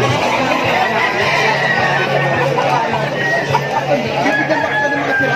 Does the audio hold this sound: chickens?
yes